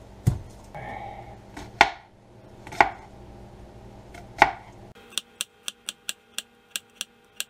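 A knife chopping an onion on a cutting board: a few slow, separated thuds at first, then a quick run of about eight sharp, evenly spaced chops, close and clear with no talking.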